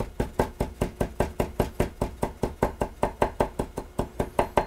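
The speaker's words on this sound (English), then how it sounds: "I'll chop this kind of fine and then measure off half a tablespoon" A knife chops parsley sprigs finely on a cutting board, close and crisp, in an even rapid rhythm of roughly four strokes per second that carries on without pause.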